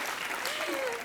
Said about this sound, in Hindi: थैंक यू मुबीन और अनीता के लिए जोरदार तालियां।